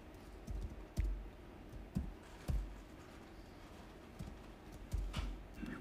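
Someone types on a computer keyboard during a SharePoint 2013 search tutorial, giving faint, irregular key clicks with a few sharper taps over steady background hiss.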